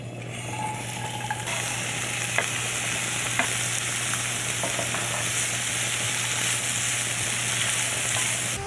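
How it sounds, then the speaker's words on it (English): Diced vegetables for ratatouille sauté in a hot pan, giving a steady, close sizzle throughout with a few faint clicks of utensils against the pan. "and saute these diced vegetables"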